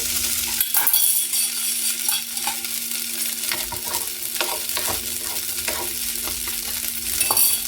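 A spoon gently stirs kodo millet poha in a hot pan, with soft scraping and clinking strokes at an irregular pace over a steady background sizzle of frying.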